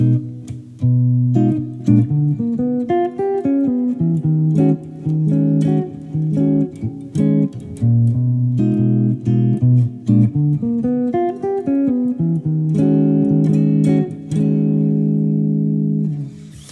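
A clean electric jazz guitar plays a continuous, angular single-note diminished-scale line with wide interval leaps, steady and unaccompanied, slightly dissonant in color.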